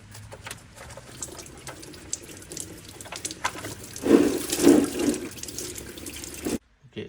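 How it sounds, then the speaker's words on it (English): Water pours and splashes from the opened radiator drain plug of a Honda during a coolant flush, a steady close gush that swells in the middle before stopping abruptly. "Open the drain plug again to drain all the water out."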